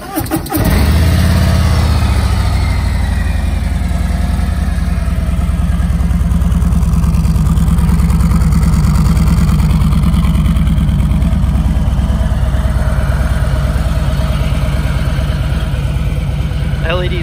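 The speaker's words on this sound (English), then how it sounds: "So let's go ahead and start this bike so you guys can hear it go." A 2020 Harley-Davidson Tri-Glide Ultra fires up and settles into a loud, deep, steady idle that rumbles close by for the whole stretch, with no talking heard over it.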